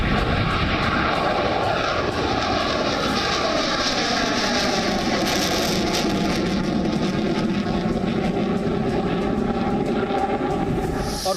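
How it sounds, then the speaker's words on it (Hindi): A Mirage fighter jet takes off with a powerful, continuous roar and a rising, sweeping engine whine that stays loud and close throughout. "सबसे पहले मिराज फाइटर जेट ने टेक ऑफ किया।"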